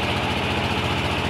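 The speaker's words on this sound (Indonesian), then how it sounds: "ada kapal guys" Boat engine running steadily on Telaga Menjer lake in Wonosobo, a continuous close, loud idling rumble with a regular pulsing beat and no talk.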